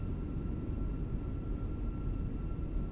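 Thrust reversers on a simulated airliner landing in Microsoft Flight Simulator give a loud, continuous low roar of rushing engine noise, steady and broadband throughout.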